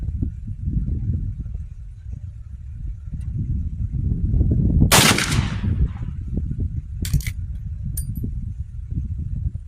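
A 38-55 rifle firing a smokeless load gives one sharp, loud report midway, with a second fainter crack and a small click trailing after, over steady outdoor rumble.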